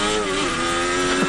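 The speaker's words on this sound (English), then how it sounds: "Sainz sounds like he's revving it as he comes across the line," A Formula 1 car revving hard as it crosses the finish line during 2022 Canadian Grand Prix qualifying, a loud, sustained high-pitched engine whine that holds steady with a slight rise at the end.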